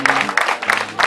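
Wedding guests clapping and ululating together in quick bursts, a close, lively crowd sound with repeated high trilling cheers over steady applause.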